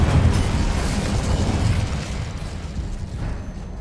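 An Incendio fire spell cast in Hogwarts Legacy gives a dense, roaring rush of flame and rumble that holds steady, then eases slightly toward the end, with no speech over it.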